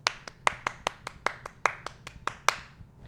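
A single pair of hands claps about a dozen times in a fast, slightly uneven rhythm, sharp and close, as applause for Sophia.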